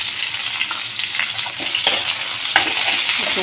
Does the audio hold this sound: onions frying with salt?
yes